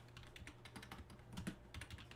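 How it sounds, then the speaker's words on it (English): Quiet tapping on a computer keyboard with irregular clusters of key presses over a low steady hum. The typing is faint and close, with no voices. "I hate typing at an angle."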